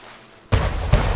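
Two heavy booming cannon blasts in the video game Anno 1800, the first starting abruptly midway and the second following shortly after, loud against a quiet background.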